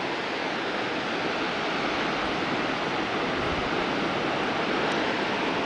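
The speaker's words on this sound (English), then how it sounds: "Here a great view of the waterfall again." Waterfall at Foroglio, a steady broadband roar of falling water heard from a vantage point, loud and unchanging throughout with no voices over it.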